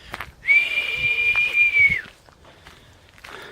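One long, steady, high-pitched whistle held for about a second and a half, loud and close, followed by quiet rustling.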